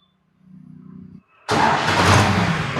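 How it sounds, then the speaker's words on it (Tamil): A Farmtrac WorldMaxx 6C 4WD tractor engine cranks briefly with a low starter whir, then catches and runs loud and close, settling into a steady full-bodied idle. "நம்ம வேர்ல்டு மேக்ஸ் 6C இந்த 4 வீல் டிரைவோட இன்ஜின் எந்த அளவுக்கு ஸ்மூத்னஸ் இருக்குது"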